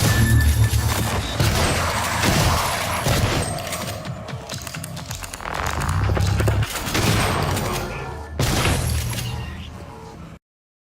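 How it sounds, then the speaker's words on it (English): Typhon enemies fire lasers in the video game Prey (2017), a chaotic barrage of zapping blasts, crashes and impacts in rapid bursts, loud and dense, with a voice talking over the combat. "Oh yeah, they shoot lasers too."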